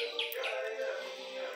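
Birds chirp and twitter together at a country farm, a busy, fairly faint chorus of overlapping high calls without talk.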